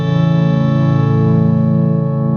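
A full guitar chord rings out and sustains evenly, thickened by delay and reverb into a shimmering wash.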